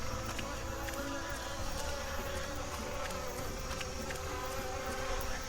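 Swarm of bees in a wilderness survival video game, a dense continuous buzzing drone that fills the whole stretch at steady, fairly loud level.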